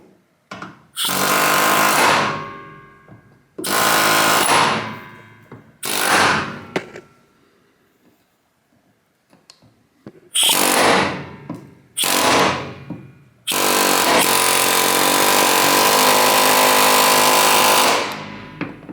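Loud bursts of pneumatic tool hammering on rivets of a 1990 International school bus, several long rattling blasts separated by pauses, the last one sustained for several seconds, close and harsh with no talk.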